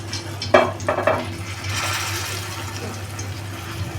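Mackerel (bangda) fries in a pan over a gas flame and is flipped with metal tongs, bringing a few sharp clinks and scrapes followed by a steady close sizzle over a low hum.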